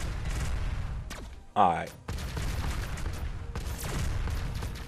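Missiles and explosive shots fire in the sci-fi space shooter Xenoraid on Xbox One, with rapid bursts of blasts and booms and one sharp synthetic zap midway, as someone talks over the action.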